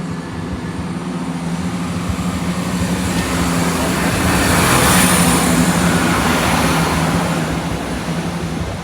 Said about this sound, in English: Train finally approaching.